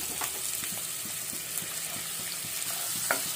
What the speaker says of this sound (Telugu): ఆయిల్ హీట్ అయిన తర్వాత ఒక ఆనియన్ కట్ చేసి వేసుకుంటున్నాము